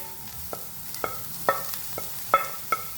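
Spoon stirring curry bun filling with spice powder in a pan, with sparse scraping strokes and faint crackles over a quiet background.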